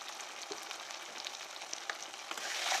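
Turmeric and cumin frying in oil give a faint, even crackle with small pops and light scraping, rising a little toward the end.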